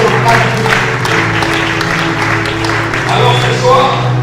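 A church congregation claps and cheers during a worship service, a broad wash of applause mixed with voices and a sustained hum, loud and continuous.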